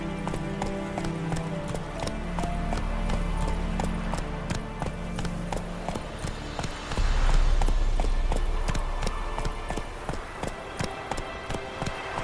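Roach the horse galloping in The Witcher 3, a steady clip-clop of hooves running under game music, growing louder and heavier about halfway through.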